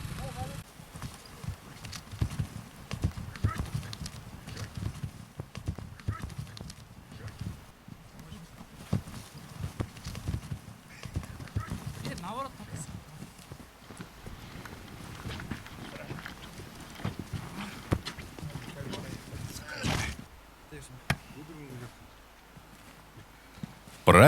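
Shod horses walk on hard, stony ground, their hooves making a steady, uneven clip-clop that carries on throughout, moderately close, mixed with rustling outdoor noise and a voice speaking over it.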